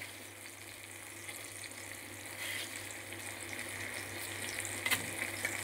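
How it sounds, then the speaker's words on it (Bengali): A spice paste of salt, turmeric and red chilli powder fries in a pan for a fish dish, a quiet, steady sizzle with faint stirring and a brief clink near the end. "এবার ভালো করে মশলাটাকে কষিয়ে নেব।"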